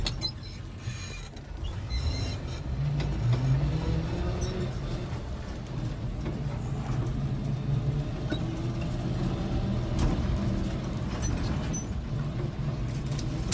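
An old car with a manual gearbox pulling away in first gear after the clutch is let out near Lake Berryessa, a low engine drone that rises as it gets gas, with creaks and rattles over it.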